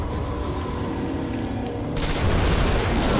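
Dense gunfire in the Destiny video game as the player shoots at a target, a continuous loud barrage that grows heavier and brighter partway through, with no pauses.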